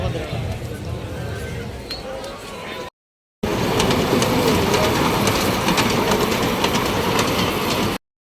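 A fair ride train rolls steadily at a Comilla trade fair, its clattering wheel noise loud and continuous over busy crowd chatter, broken by a short gap of silence midway.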